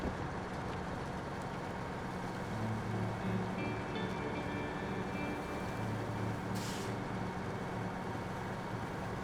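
The Crawler High truck in SnowRunner drives along a mountain road with a steady, low engine drone that holds an even level throughout, with a brief hiss partway through.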